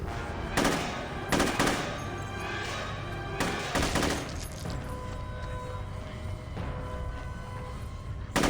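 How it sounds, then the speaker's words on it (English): Minigun fire in the Zombie Uprising mode of a video game, heard as sustained rattling gunfire with several louder bursts and crashes throughout. "There is a minigun in the location where the video stops."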